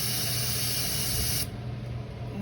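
Carb cleaner sprays into the variable venturi carburetor of a 1984 Ford Bronco that has sat for 20 years, a loud close hiss that runs steadily for about a second and a half, then cuts off to quieter background.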